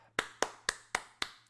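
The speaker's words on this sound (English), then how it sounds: "Thanks for the claps, guys." Five sharp, evenly spaced hand claps in a quick steady rhythm, close and fairly soft, with nothing else heard.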